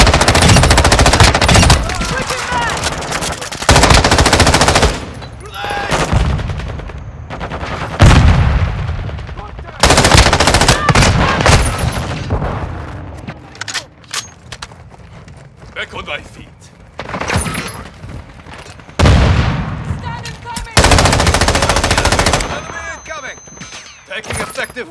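Loud, close bursts of machine gun fire from Call of Duty: Modern Warfare arrive in repeated rapid volleys separated by short lulls, with voices calling out between them.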